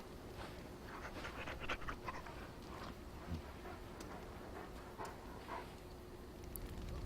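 A dog pants softly in the fantasy video game Dragon Age: Origins, quick low breaths repeating under faint game ambience, with no talking over it.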